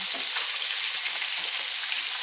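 Katla fish heads frying in hot oil in a pan: a steady, close, bright sizzle with small crackles, continuous and alone without talk.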